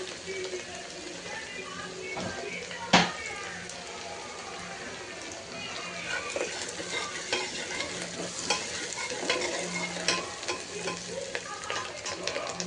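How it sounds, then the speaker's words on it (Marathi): Onion fries in hot oil for a mutton curry, a dense, continuous sizzle and crackle close up, with stirring scrapes and a sharp utensil knock near the start, no voice over it. "कांदा तेलात थोडा फ्राय करून घेऊ। तेल आपल्याला लाल गरम झाले।"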